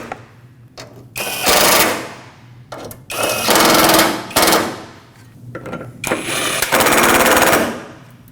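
A power tool tightens headlight bolts on a Nissan Frontier in loud, close bursts of rapid mechanical rattling, about four runs separated by short quiet gaps.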